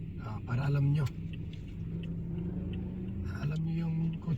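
Engine rumble inside a moving car, a steady low hum with brief rising swells, running under someone talking throughout.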